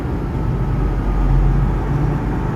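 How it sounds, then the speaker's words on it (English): Steady, loud low rumble of a cooling fan running inside the cab of an empty truck, a broad droning whoosh that holds evenly throughout with no talk over it. "But what you're hearing is the fan running."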